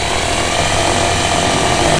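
A power drill bores a hole into a vehicle's over fender for a rivnut, a loud continuous whine and grind that runs for about two seconds before cutting off abruptly.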